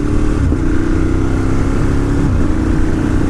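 A 2018 Ducati Monster 1200S roars close and loud as the rider shifts from first to second using the clutch, the engine tone dipping briefly at the change before pulling steadily again, with no voice heard.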